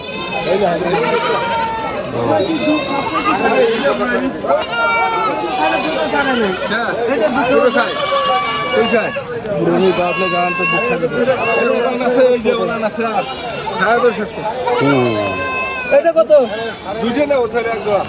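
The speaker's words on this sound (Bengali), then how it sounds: "খাসি এটা।" Goats bleat repeatedly at a livestock sale where each family receives a goat, including a castrated male, the calls rising over steady chatter and talk from a nearby crowd.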